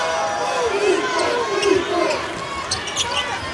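Indiana home crowd at a college basketball game roaring and shouting in protest, demanding a foul call, a sustained loud wash of voices with a ball bouncing and a commentator talking over it.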